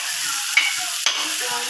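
Spices and turmeric powder sizzle hard in a hot pan for a crab curry, a steady loud hiss broken by two brief scraping stirs.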